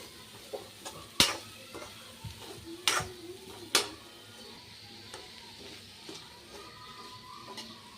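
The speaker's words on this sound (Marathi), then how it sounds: "छान तेलात कांद्याची पात छान भाजून घ्यायची।" Spring onion greens fry in hot oil while a spatula stirs them in the pan. A soft sizzle runs throughout, broken by a few sharp, loud clacks of the utensil striking the pan and lighter scraping taps.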